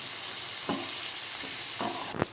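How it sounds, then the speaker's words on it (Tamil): Spice masala of chili powder, turmeric and ground pepper and cumin sizzles and fries in a pan for South Indian fish curry, with a steady crackle and a few louder bursts as it is stirred. "இதெல்லாம் வதக்கிக்கலாம்"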